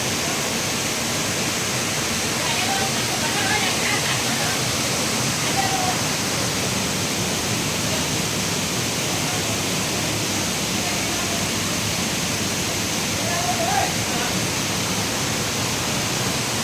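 The Kapilappana Teertha waterfall on a hillside slope roars as a dense, unbroken rush of water, loud and even throughout, with no voices.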